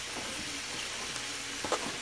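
Ground beef being stirred into sizzling vegetables in a pan for spaghetti, a soft continuous sizzle with a few scraping stirs and a brief louder clatter near the end.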